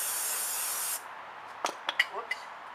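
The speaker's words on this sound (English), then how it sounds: "I'm going to go ahead and spray off these pads as well" Continuous loud hissing spray of brake cleaner onto ceramic brake pads during a rotor job, cutting off abruptly after a second, followed by a few faint clicks and short bursts.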